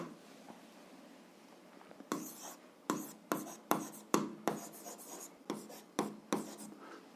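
A pen writes out an algebra solution for a seventh-grade exercise, giving quiet close scratchy strokes in irregular short bursts after a soft opening stretch, with no talking.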